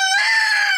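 A hen gives a single short, close vocal call, a clear drawn-out tonal cluck lasting under a second with nothing else around it.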